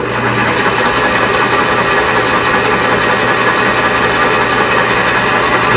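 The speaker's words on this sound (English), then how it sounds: "So now I can actually turn the lathe on and use the Sharpie as it's spinning as a, a marking point." A lathe motor runs at speed with a constant loud mechanical hum and vibration, steady throughout and close, without talking.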